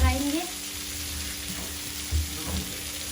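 Chicken kebab frying in oil in a pan gives a steady, close sizzle that runs unbroken, with a few soft clinks and stirring bumps on top.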